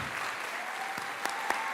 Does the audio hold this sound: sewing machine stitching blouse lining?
no